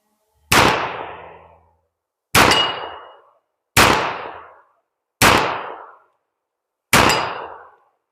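Five sharp, loud gunshots from a World War 2 era pistol fired rapidly at a 25-yard range, each crack ringing off with a decaying tail, spaced about one and a half seconds apart, no voices.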